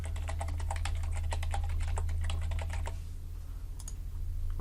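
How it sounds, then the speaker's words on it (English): Brisk, steady keystrokes on a computer keyboard over a constant low hum, clattering for about three seconds before a pause and a couple of final taps. "I'll just type it in."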